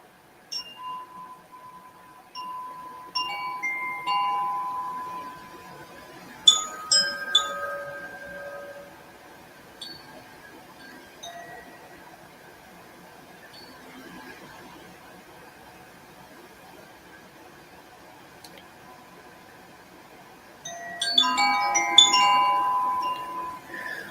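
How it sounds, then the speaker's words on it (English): Wind chimes played softly during a spiritual healing meditation: scattered bright metallic tinkles early on, a quiet stretch, then a fuller shimmering cascade of chiming near the end. "I'm going to bring in the wind chimes."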